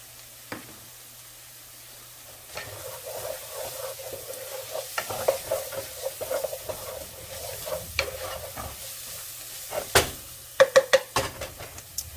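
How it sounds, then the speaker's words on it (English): Minced garlic sautéing in a pan for chicken alfredo, a soft steady sizzle with clustered spoon knocks and stirring scrapes growing busier toward the end, no talking. "cloves of minced garlic. Just saute that for about 30 seconds or so."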